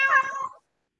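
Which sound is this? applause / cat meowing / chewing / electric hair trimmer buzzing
cat meowing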